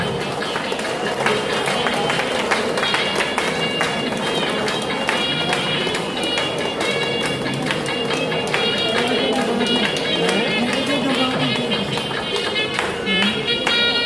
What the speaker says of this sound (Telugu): క్లాప్స్ కొట్టాలి గట్టిగా